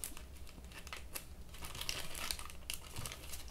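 Plastic packaging crinkles and rustles steadily up close as a Yo-kai Watch Jibanyan keychain is opened during an unboxing. The sound is quiet and continuous, with small crackles and taps.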